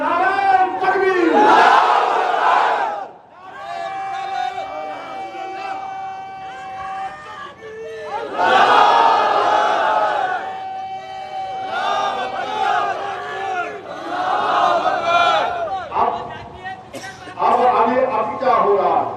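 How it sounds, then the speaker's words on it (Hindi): A large crowd at a political rally against the CAA chants the Nara-e-Takbeer slogan in loud, roaring bursts that answer a leader's call, with the shouts rising and falling in waves. "अब लगाओ नारा, नारे तकबीर।"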